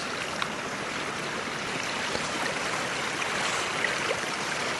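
The River Walkham stream flows over Dartmoor moorland in heavy wind. It gives a continuous, even rushing hiss of moving water that stays moderately quiet and unbroken, with no voices.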